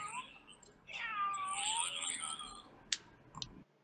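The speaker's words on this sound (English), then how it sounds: "Sounds like someone's like doing a ritual with cats." Several cats meowing in RuneScape, overlapping yowls and drawn-out meows for a couple of seconds, followed by a few sharp clicks, fairly close and loud with no talk.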